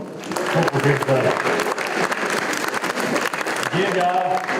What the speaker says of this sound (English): One more round of applause for both.